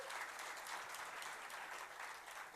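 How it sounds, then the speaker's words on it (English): Steady applause from an awards-night audience at a branding and marketing excellence ceremony, a dense continuous wash of clapping that holds at even loudness throughout. "Let's give her a round of applause."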